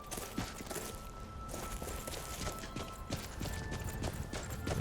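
Steady clip-clop of horse hooves in a quick walking rhythm, close and continuous over a busy game-like background ambience.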